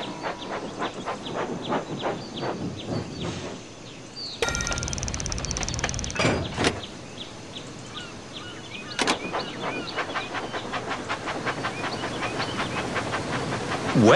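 A toy train engine from the video game Thomas and Friends: Magical Tracks chugs steadily with rhythmic clacking and hissing steam, with a few brighter bursts mixed in along the way.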